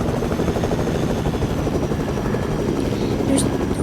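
Video game helicopter in flight, a loud, continuous close rotor chop and engine drone, with faint voice sounds underneath.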